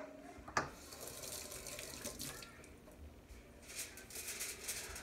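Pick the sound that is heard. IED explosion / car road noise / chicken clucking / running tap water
running tap water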